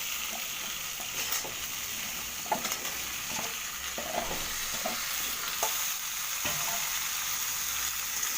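Tomato frying and softening in a hot pan for a ginger rohu fish curry: a continuous sizzle with occasional spatula stirs and scrapes, fairly quiet and steady.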